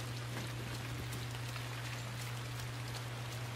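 Steady rain from the video game INSIDE falls in an outdoor night scene, a dense even hiss of drops with a constant low hum beneath, alone and unbroken throughout.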